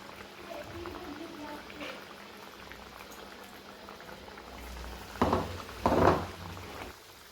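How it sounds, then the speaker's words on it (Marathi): Maharashtrian urad dal vadas frying in hot oil, a soft, steady bubbling sizzle with two louder bursts of crackling near the end. "हा तेलामध्ये तळायला टाकायचा आहे"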